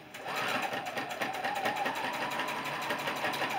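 Sewing machine back stitching a baby quilt, a close, fast rhythmic whir of needle strokes running continuously and fairly quietly.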